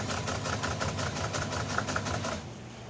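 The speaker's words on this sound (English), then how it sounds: "Pretty powerful machine, especially with the new DC motor I put in it." A powerful sewing machine fitted with a new DC motor stitches golf cart upholstery, running in a fast, steady rhythmic chatter of needle strokes close by, then slowing and stopping at the end.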